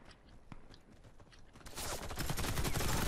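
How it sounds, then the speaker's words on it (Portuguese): Gunfire in the Warface first-person shooter, scattered shots that swell into a loud, continuous rattling barrage in the second half. "Nossa, tem gente atirando em mim."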